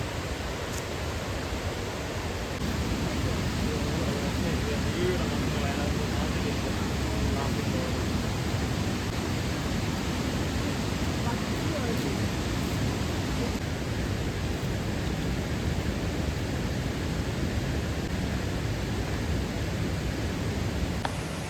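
Mae Sa Waterfall in Chiang Mai, Thailand, a steady broadband roar of falling water that carries loud and constant throughout, with no talk over it.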